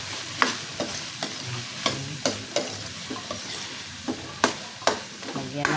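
Chayote and beaten egg sizzle steadily in a hot pan while a spatula scrapes and stirs with repeated sharp clacks at irregular intervals, close and fairly loud, with no talking.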